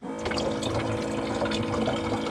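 An automatic water dispenser pump for RVs draws water up and pours it into a container, a steady close splashing stream with a low mechanical hum beneath it, no voices.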